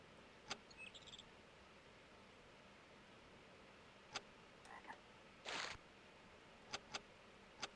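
Toads in the Zoombinis puzzle game give a few short, separate croaks and chirps spaced over several seconds against a quiet hiss, with one slightly longer burst midway.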